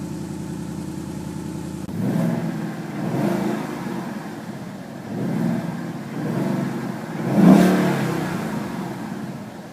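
A 2014 Ford Mustang GT Convertible fires up with a sharp start, settles into a rumbling idle, then gives several rising revs, the last the loudest, close and with no talking.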